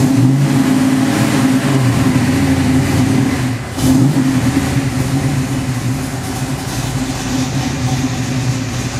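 A fuel-injected 1967 Camaro Pro Touring with an aggressive camshaft idles and revs. Its loud, deep engine rumble is held close up, dips briefly about midway, then carries on strong.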